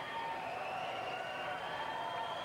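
An ice hockey arena crowd at the 1980 Olympic USA versus Czechoslovakia game roars in a steady, dense wash of cheering and applause, loud and continuous with no single voice standing out.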